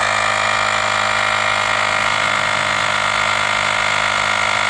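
An Asperx cordless compact tire inflator pumping up a front bicycle tire, giving a steady, loud mechanical drone with constant motor buzz and no pauses.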